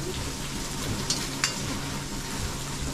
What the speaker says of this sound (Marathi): टोमॅटो आता टोमॅटोची पेस्ट टाकली.